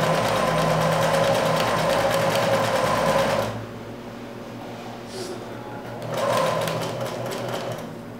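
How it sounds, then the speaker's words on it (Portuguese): A sewing machine stitches a seam on a dish towel with a fast, close, whirring mechanical hum, stops for a few seconds of near quiet, then runs again more briefly. "vou à máquina fazer uma costura"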